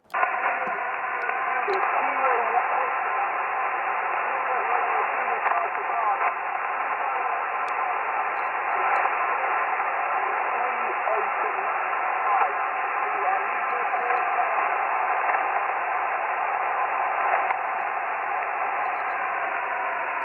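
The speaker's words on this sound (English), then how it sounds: "All right, Gary, you just dropped down way into the noise" A weak amateur radio contact on the 15-meter band is buried in steady band-limited hiss and static, with faint, barely intelligible voice fragments fading under the noise for the whole stretch.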